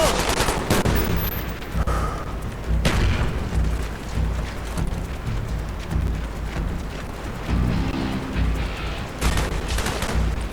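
A frag grenade blast and bursts of gunfire in the Call of Duty Black Ops video game, loud repeated booms and rattling shots layered over a dense combat din.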